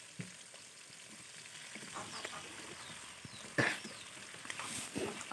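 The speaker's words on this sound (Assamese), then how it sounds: "অকণমান লৰাই দিছোঁ" Chicken curry with sesame sizzles and fries in a pan as it is stirred, a steady close hiss broken by a few louder scraping clatters of the spoon against the pan.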